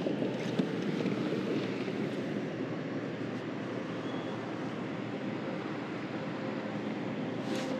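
Steady wind rushes over open water as a fishing line is cast from a boat while fishing for late winter crappies. The buffeting is continuous, moderately loud and unbroken.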